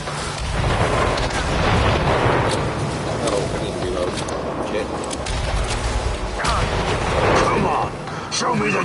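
Rapid gunfire bursts from the video game Chernobylite, loud and repeated in clusters, with someone talking over the shots.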